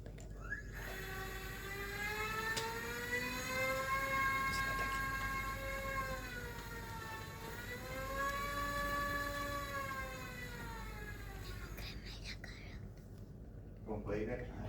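A small electric motor spins propellers on a lightweight frame, giving a steady whining drone with rising and falling pitch, fairly loud and continuous, with faint voices underneath.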